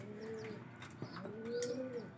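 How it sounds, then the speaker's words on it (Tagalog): A stray pigeon coos softly nearby in Nueva Ecija, Philippines, two low throaty calls separated by a short pause, with faint background rustle. "May ligaw ditong kalapati, hindi sa atin yan."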